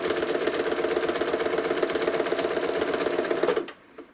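Sewing machine stitching feathers in free-motion quilting, a loud, close, rapid mechanical hum with a fast even needle rhythm that cuts off sharply just before the end, leaving near silence.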